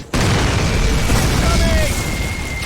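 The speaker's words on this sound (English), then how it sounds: "Mortars incoming!" Mortar explosions from the World War II shooter Call of Duty on PC, a heavy continuous rumble of blasts filling the scene, loud and close, with a faint whistling tone running over the top.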